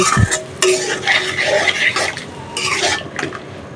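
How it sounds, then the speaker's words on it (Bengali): Fish being lightly fried in a pan for a curry, with small dried kachki fish and tilapia cooking: scraping stirs and clinks of utensil against pan over a steady sizzle, close and fairly loud, with no talking. "মাছগুলো হালকা একটু বেজে নিচ্ছি"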